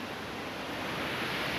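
Steady ocean surf washes onto the beach at Dominical as a continuous broadband roar with some wind, with no voices present.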